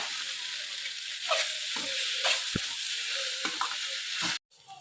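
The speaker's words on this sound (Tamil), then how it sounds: "இப்போ மசாலாவோட சேர்த்து மிக்ஸ் பண்ணிடுவோம்." Egg rice being stirred with masala in a frying pan, roadside style: a constant close sizzle with repeated scraping strokes of a spoon against the pan, then a sudden cut near the end, with no voices.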